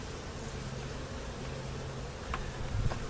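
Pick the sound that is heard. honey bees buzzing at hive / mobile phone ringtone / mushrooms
honey bees buzzing at hive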